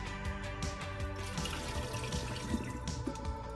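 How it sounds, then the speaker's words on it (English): Water drains off soaked sweet potato noodles, a steady close running and splashing like a tap into a sink, with small drips and knocks throughout and no talking. "Right now we just drain the water."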